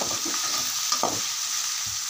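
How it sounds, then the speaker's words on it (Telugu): Steady hiss of fish curry frying in a home kitchen pan, with a few soft stirring knocks and scrapes over the continuous sizzle; no voices. "ఓకే 2 మినిట్స్ అలా వేయించుకోవాలన్నమాట"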